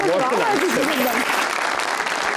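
Studio audience applause on a talk show, a dense steady wash of clapping heard close and loud, with a voice speaking over the start.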